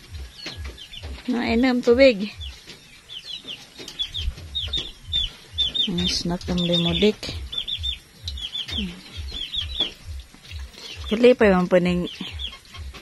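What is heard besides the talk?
chickens clucking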